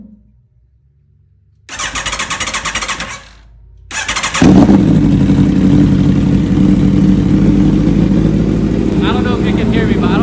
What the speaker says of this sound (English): Whoa, that backfire was insane.